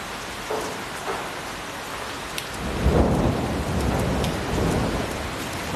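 Heavy rain pours steadily during a thunderstorm in the hills between Mukteshwar and Nainital, with thunder rumbling low and building through the middle, and no voices heard.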